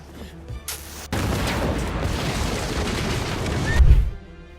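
A deep explosion at the Uramura residence in a samurai anime, as Heiko Otawa blows himself up; a sudden loud roaring blast swells into a rumble and peaks with a heavy low boom before fading, with no talking.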